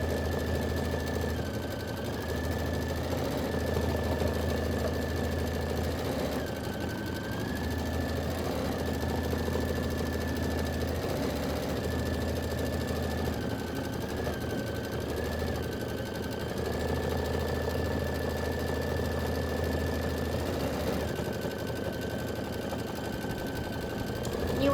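A Kimberbell embroidery machine stitches out a quilt block in navy thread with a continuous mechanical hum and rapid needle clatter, a steady whining tone rising and dipping, close by, with a voice occasionally over it.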